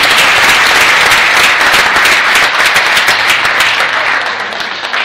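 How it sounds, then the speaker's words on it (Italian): Loud, dense audience applause from a large crowd at an evening event in Nardò, Italy, a sustained wash of clapping that holds steady and fades slightly toward the end. "un fortissimo applauso"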